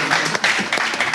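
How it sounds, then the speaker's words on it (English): A short burst of dense applause, many hands clapping together in a steady crackling wash. "I just like to put a round of applause"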